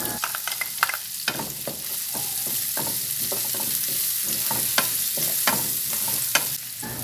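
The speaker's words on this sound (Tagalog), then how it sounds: "dito na rin tayo mag-isa. Unahin natin ang bawang tapos isunod natin ang sibuyas" Garlic followed by onion sautéing in a pan for a milkfish dish, a continuous close sizzle broken by frequent sharp scrapes and taps of a spatula stirring, with no talking.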